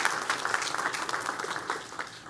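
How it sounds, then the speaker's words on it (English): A short burst of applause rises from the audience at a DeKalb County event where the CEO introduces a new police chief. The clapping is fairly faint and scattered. "Give Ms. Donna Coleman Stribling a round of applause."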